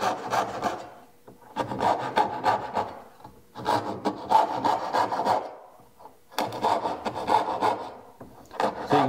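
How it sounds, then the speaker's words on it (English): A hand saw cuts wooden dovetails, with three separate bursts of rhythmic rasping strokes separated by short pauses, close and clear with no talk. "And then I can grab my saw and I can saw my dovetails."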